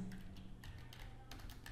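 Computer keyboard typing while editing text on a free portfolio website builder: a few soft, quick clusters of key taps, close and fairly quiet, with a low background hum.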